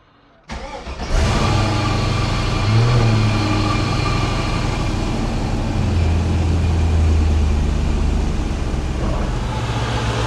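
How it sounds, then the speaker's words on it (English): LS-swapped Mazda B2200 pickup truck cranking and firing up, then a V8 settling into a loud, steady idle with the air conditioning running, a continuous close rumble with slight fluctuations. "So I'm gonna go turn on the truck."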